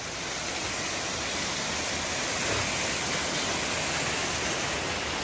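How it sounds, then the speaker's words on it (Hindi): Continuous rushing roar of a waterfall flowing under a road, loud and steady, a broad hiss of falling water without any breaks or voices. "ये झरना जा रहा है रोड के नीचे से।"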